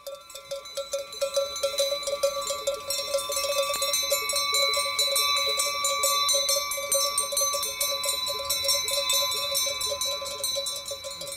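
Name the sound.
cowbells on a moving herd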